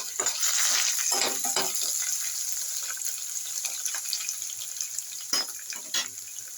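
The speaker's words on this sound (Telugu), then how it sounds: "వెల్లుల్లిపాయలు వేసేస్తాం." Garlic and dried red chillies sizzle in hot oil for a lentil dal with drumstick leaves, a loud bright frying hiss with crackling pops and spoon stirs, fading slightly as it settles.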